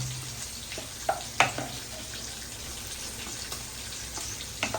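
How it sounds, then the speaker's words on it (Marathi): Prawns for prawn masala frying in a pan as they are flipped, a low steady sizzle with a few sharp clinks and taps of the utensil, fairly quiet and close, no speech. "आता कोलंबी मस्तपैकी अलटी पलटी करते"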